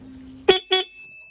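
Two short motorcycle horn honks in quick succession, loud and close, with a faint steady tone lingering underneath.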